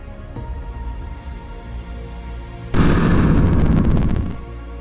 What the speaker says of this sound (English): Moon just exploded.